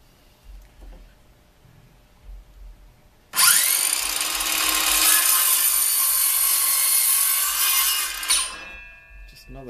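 A miter saw cuts through wood in a workshop, starting suddenly with a loud, sustained high whine that runs for about five seconds, then winds down over faint background noise.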